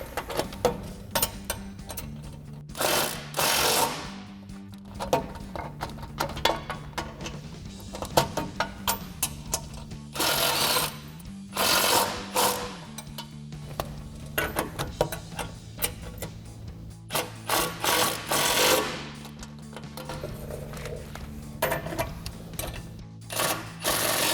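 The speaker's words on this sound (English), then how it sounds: "we can come back up top to our winch tray bracket and tighten down all of our hardware" Hand tools tightening bumper bracket hardware on a Jeep Gladiator JT, with irregular ratcheting clicks and metallic clatter in repeated bursts, close and steady over a low background hum.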